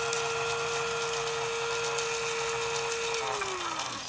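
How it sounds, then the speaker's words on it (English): A coffee grinder grinding seasoning spices gives off a steady high motor whine with a gritty rattle, then the pitch slides downward as it spins down at the end. "So this is a coffee grinder. You grind your seasoning like that."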